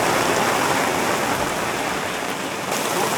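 Heavy storm rain pours down in a dense, unbroken hiss, loud and close throughout with no voices, in the tropical Northern Territory of Australia.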